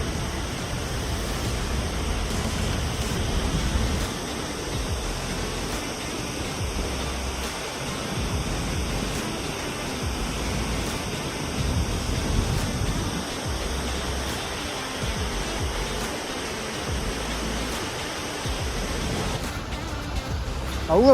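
The Kaluwa Watunu Ella waterfall at Hasalaka, Sri Lanka, roars as a constant broadband rush of falling water, steady and unbroken throughout, heard fairly close.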